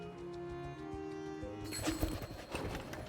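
Horses' hooves in Mount & Blade II: Bannerlord, a fast rhythmic clip-clop of several mounts that grows louder and denser partway through, with light game ambience and no talk.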